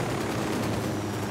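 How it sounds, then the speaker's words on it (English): Gunfire in the tactical shooter Ghost Recon Wildlands: a dense, continuous burst of rapid shots, steady and fairly loud throughout. "Opening fire on these fuckers."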